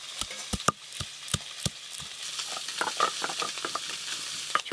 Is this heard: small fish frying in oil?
yes